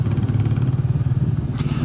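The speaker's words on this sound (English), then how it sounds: "I like the exhaust note of the Enfield." A Royal Enfield Meteor 350 with a belt drive upgrade gives a steady, low thumping exhaust note while riding, loud and continuous from start to finish with no talking.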